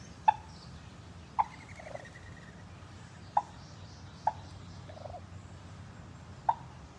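A wild turkey gobbles several times at irregular intervals, short sharp calls from a moderate distance over quiet outdoor background.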